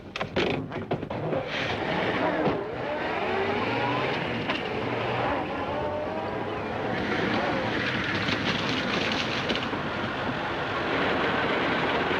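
A 1936 Earthworm crawler tractor rumbles along a road with a continuous, fairly loud engine drone and clattering, its pitch rising and falling slightly, and a voice briefly heard early on.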